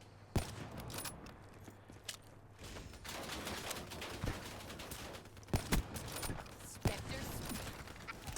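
Gunfire in Call of Duty Black Ops 3 multiplayer: faint, scattered sharp shots and short bursts at irregular intervals over a steady hum of game background noise.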